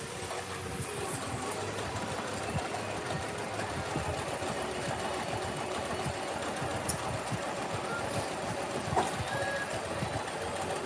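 A sewing machine stitches a quilt in a steady, continuous mechanical run, its rapid low clatter holding at an even, moderate level for the whole stretch with no talk over it.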